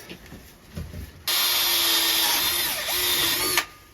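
A power drill bores a mounting hole for a Can-Am Spyder saddle bag mount. After a few faint handling knocks, a loud, steady high whine runs for about two seconds, briefly dips, resumes and then cuts off.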